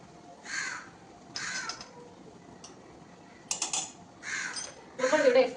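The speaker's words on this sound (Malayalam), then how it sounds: "രാവിലെയും ഉച്ചയ്ക്കും കാക്ക വരുവേ. നമ്മൾ ഫുഡ് കഴിക്കുന്ന ടൈം ആകുമ്പോൾ വരും കാക്ക." Crows caw outdoors around mealtime, giving several harsh, fairly close calls in separate bursts over a faint background.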